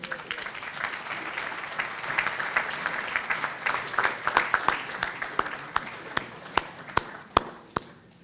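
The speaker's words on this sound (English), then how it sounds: "another round of applause for the Prime Minister" Audience at an economic summit applauding the Prime Minister after a speech, a dense round of clapping that thins out into scattered, sharp individual claps toward the end.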